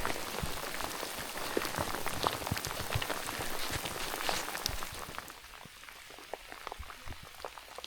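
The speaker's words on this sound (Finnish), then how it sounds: "Sade jatkuu vielä hieman" Rain falls steadily in the wilderness of Lemmenjoki National Park in Finland as a thunderstorm passes. The dense, hissing patter of drops on surfaces gradually thins and softens toward the end.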